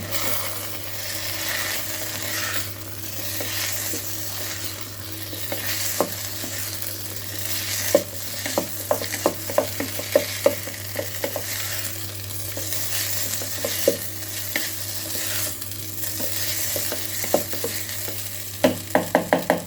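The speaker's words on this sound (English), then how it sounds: "Now we will fry it for 2 minutes." Rice upma frying and being stirred in an electric kettle, with a steady sizzle under repeated scraping and clinking of a spoon against the pot, growing busier toward the end.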